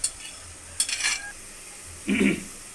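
Carrots are stirred and fried in a pan for a vegetable macaroni dish, heard as a soft background sizzle broken by a few clinks and scrapes of a spoon against the pan.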